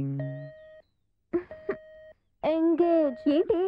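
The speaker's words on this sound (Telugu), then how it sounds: "రింగింగ్" A telephone ringback tone on a call plays as steady electronic beeps separated by short silences, and a person's voice follows.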